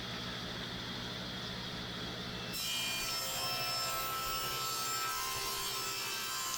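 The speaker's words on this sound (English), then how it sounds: "I'll just run it through the table saw here to put a kerf in for that saw to sit into" A table saw cuts a kerf into purpleheart wood, a steady whine and rasp that grows louder and brighter partway through and holds as a continuous tone, with no talking.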